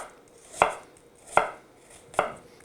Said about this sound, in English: Then we're going to do a slice through the onion, not all the way through.